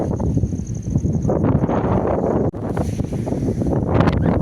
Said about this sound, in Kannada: ಒಳ್ಳೆ ಗಾಳಿ ಬೀಸುವಂಥ ಜಾಗ.